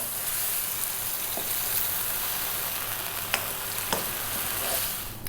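Pieces of fish tossed in a pan with oyster sauce for a restaurant-style Chinese dish give a steady, close, dense sizzle, with a few faint clicks from the pan and no voices.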